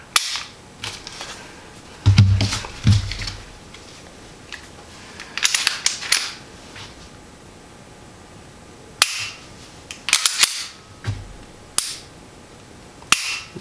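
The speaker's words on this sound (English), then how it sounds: "It's a striker fired trigger. And they have an Audible reset." Trigger reset clicks of a Springfield Armory XD striker-fired pistol: a handful of sharp, close, dry clicks in scattered pairs and singles with quiet gaps between them, no talking.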